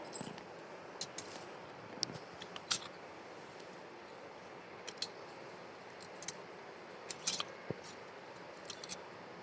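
Scissors snip through the roots of a root-bound potted plant, giving faint, scattered clicks at irregular intervals over a quiet background.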